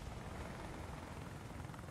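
Helicopter in a War Thunder tank battle, a steady rotor drone holding at a constant moderate level throughout with no talk over it.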